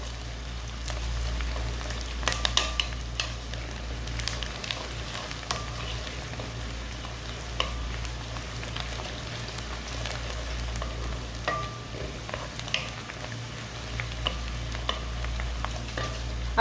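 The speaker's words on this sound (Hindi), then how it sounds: "खड़े मसाले अच्छी तरह पकाऊंगी उसको।" Whole spices such as cardamom, cloves and nutmeg fry in a pan while being stirred, giving a steady soft sizzle with faint scraping and light crackles under a low background hum, with no voices.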